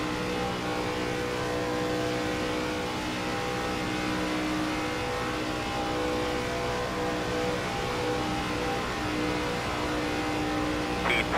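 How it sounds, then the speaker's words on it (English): ARCA race cars lapping the Talladega superspeedway, a sustained engine drone with steady tonal harmonics and a slight rise in revving, heard from a distance without talk. "T22 is the fastest car on the track."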